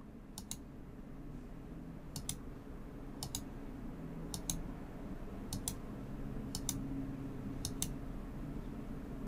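Single mouse clicks come at a steady pace, about one per second, during a Windows 10 20H2 clean install. The clicks are crisp and close, set over a faint low hum, with no speech.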